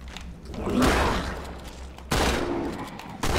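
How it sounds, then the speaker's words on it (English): A shotgun in the video game Halo 2 fires three loud, close blasts at roughly one-second intervals, each a sharp broadband crack that decays into a rumbling tail. "Shotgun to the face."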